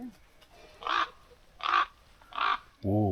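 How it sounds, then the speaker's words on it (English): Three evenly spaced harsh croaking calls from a raven in a tree, clear and moderately near outdoors, followed by a brief voice at the end. "Is that maybe a raven up in the tree?"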